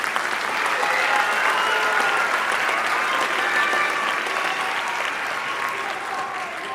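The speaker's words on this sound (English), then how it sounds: "So give them some applause for that." An audience at a farewell concert applauds a band after a sweepstakes award is mentioned, the clapping steady and dense from start to finish with no one talking over it.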